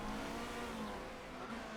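A race car engine in a Motorsport Manager endurance series race holds a constant, fairly faint drone with steady pitch throughout, heard alone with no talk.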